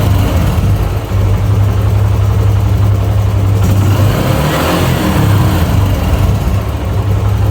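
A Yamaha YBR125 motorcycle engine with a freshly tuned butterfly carburetor holds a steady close idle, with a brief light throttle blip in the middle before settling back.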